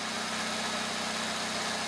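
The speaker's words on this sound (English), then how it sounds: "hey, we're idling" A car engine idles during a charging system test, a steady low hum and vibration heard close and alone.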